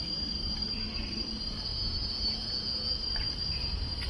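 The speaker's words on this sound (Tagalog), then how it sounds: "Yung narinig mo yun, parang daming noon, mga kuliglig." Dense, steady chorus of crickets in a jungle on Sentosa, Singapore, a continuous high shrill drone close around the listener with low background rumble beneath.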